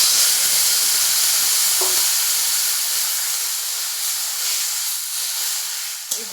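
Water meets a hot pan of fried ingredients for a chalta sour dish and sets off a loud, sustained hiss of steam and sizzle that slowly fades over several seconds.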